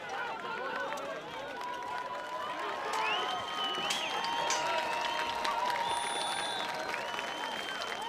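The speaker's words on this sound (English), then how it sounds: "the crowd is excited to hear that" Crowd at a medieval combat world championship at Spøttrup Castle in Denmark, cheering and clapping steadily throughout, swelling a little louder partway through over the clatter of melee fighting.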